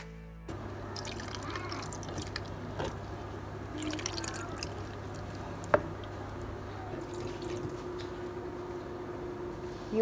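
Beetroot juice is poured into a jar of boiled eggs, a soft steady trickling and dripping of liquid, quiet and close, with small splashes and clinks along the way.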